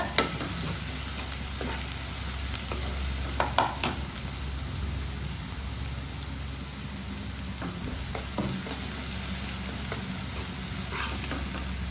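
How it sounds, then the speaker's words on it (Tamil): Chicken pieces sizzle steadily in a pan while being stirred, with scattered scraping knocks of the spoon over a constant frying hiss, close up and with no talk, for a green chicken gravy. "இதில் கொஞ்சம் உப்பு போடணும். நல்லா வதக்குங்க."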